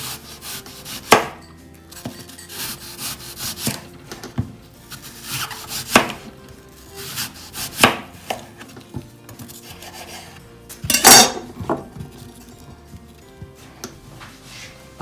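Knife cutting banana and apple for a tiramisu, giving sparse, irregular chopping and rubbing strokes at close range, with one louder, sharper cut near the end and no talk.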